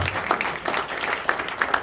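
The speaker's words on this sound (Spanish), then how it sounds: "Yo no sé si usted le quiere dar un aplauso a mi Dios" A church congregation applauds during a Spanish-language sermon, giving a brief, dense burst of clapping that stays fairly even and moderately loud throughout.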